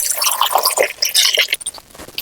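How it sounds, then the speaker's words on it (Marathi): Water pours into a vessel for washing potatoes at an outdoor farm kitchen, a close, splashy gurgle with bubbling that thins out toward the end, no voices. "यात टाकूया पाणी"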